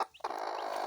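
A hen in a home poultry farm where chicks are being hatched gives a single close, drawn-out cluck after a faint short call.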